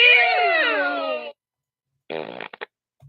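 A comedic fart sound effect is cued by a sound operator during a live talk show: a long, buzzy, wavering blast of over a second, then, after a pause, a shorter sputtering burst ending in two quick pops, loud and close.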